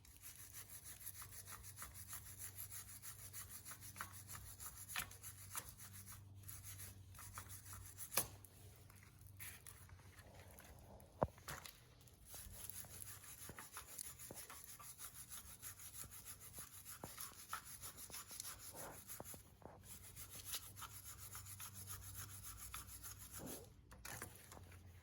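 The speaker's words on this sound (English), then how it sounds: "With a wire brush, remove any rust and debris that could affect the installation of the new clips." Wire brush scrubbing rust and debris off the front brake caliper bracket of a 2005 Ford F150, a steady rasping, rubbing scrape repeated continuously at close range with a few sharper knocks, no talking.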